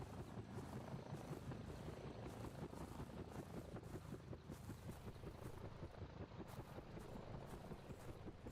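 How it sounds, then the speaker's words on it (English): Helicopter rotor din from an in-game chopper in a prehistoric hunting game, a steady, dense whirring drone that holds at an even level throughout without letting up. "never hear anything over that goddamn chopper"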